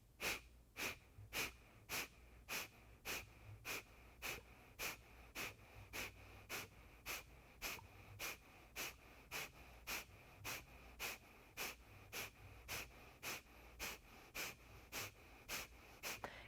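Rhythmic, forceful pranayama breathing during a yoga class, a fire-breath style exercise with sharp nasal exhales repeating steadily about twice per second for the whole stretch, close and clear with no talking.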